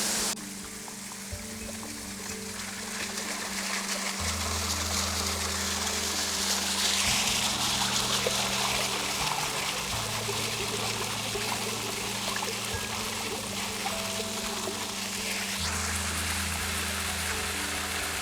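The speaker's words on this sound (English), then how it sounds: "Kubah Waterfall" Kubah Waterfall stream in Kubah National Park, Sarawak, rushing and splashing in a steady, loud, continuous wash of water, with a low hum running underneath.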